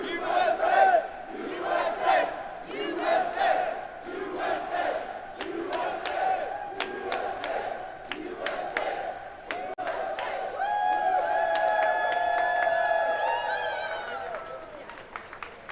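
Trading floor crowd at the stock exchange close on a holiday-eve session, loud cheering, whooping and shouting with scattered sharp claps, swelling into a sustained roar in the latter half.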